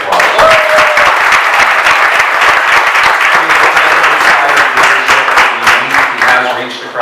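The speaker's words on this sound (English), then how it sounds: "Give him a round of applause." A loud crowd applauds Senator Cory Booker at a Newark event, dense clapping holding steady for about seven seconds with voices and cheers mixed in, then tapering slightly at the end.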